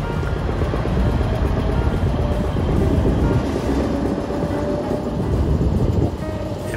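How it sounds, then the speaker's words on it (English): Railroad turntable at the Great Lakes Central Railroad, a steady loud low rumbling and grinding drone that continues evenly, close by, with no talking. "we're going to watch how a railroad turntable operates"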